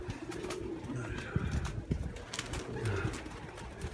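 Pigeons coo in low, repeated throaty calls that sit fairly close, with a steady outdoor background noise underneath throughout.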